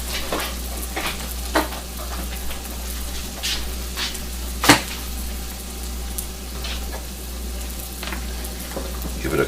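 Penne pasta from a box being stirred into a pot of boiling water while browned meat cooks for baked ziti, with soft scraping and bubbling over a steady low hum and a sharp clink partway through.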